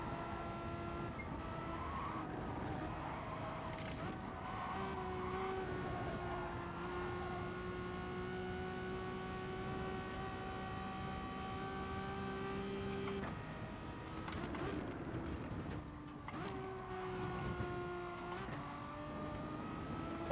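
A Toyota 86 race car engine in the racing game GT Sport, revving steadily through gear changes with rising and falling tones, tyres squealing at times, heard alone without talk.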